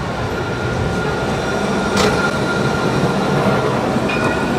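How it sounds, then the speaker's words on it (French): An urban railway train in Casablanca rolls past loud and close, with a continuous rumble of wheels on rail, metallic clatter and brief squeals over the steady roar. "Ce moyen de mobilité urbaine par voie ferrée n'est qu'une des offres de transport à Casablanca."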